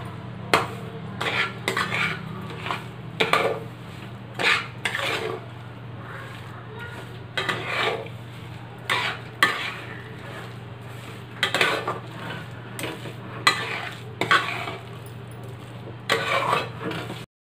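Bread barfi mixture stirred in a pan over a low flame: repeated metallic scrapes and clinks of a spoon against the pan in an irregular rhythm, close and clear over a low steady hum.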